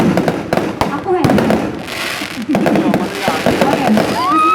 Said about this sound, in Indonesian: dari pesta kembang api yang malam hari ini